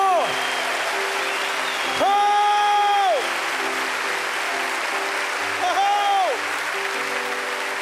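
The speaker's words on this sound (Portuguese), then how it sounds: "Aplauda o Senhor que é vivo." A church congregation claps for the Lord during a sermon, broad clapping spread across the room while a sung or sustained voice rises and falls over it, with music-like tones in and out.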